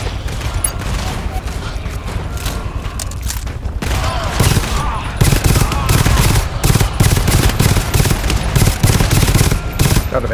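Dense, loud automatic gunfire in the GTFO video game, rapid bursts crackling nearly nonstop for ten seconds, growing heavier partway through with sharp repeated shots and a faint voice now and then underneath.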